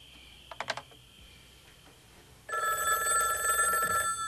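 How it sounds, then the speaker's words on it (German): A telephone in a parish house rings with a bright electronic trill that starts abruptly and sustains to the end, preceded by a few brief clicks in an otherwise quiet room. "Genau 15 Minuten später klingelte das Telefon wieder."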